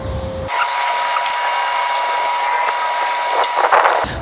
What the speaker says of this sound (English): You always gotta make sure when drilling into gel coat, you always have to make sure that you countersink.